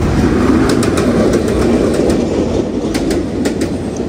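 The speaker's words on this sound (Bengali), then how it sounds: "Local train." A local train rolls past very close on a rural line, a loud continuous rumble with faint clickety-clack of the wheels and some birds calling over it.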